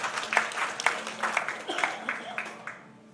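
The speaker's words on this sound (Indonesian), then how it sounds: "Berikan tepuk tangan buat Tuhan." A church congregation claps and cheers together in praise after a sermon, a lively burst of applause that fades toward the end.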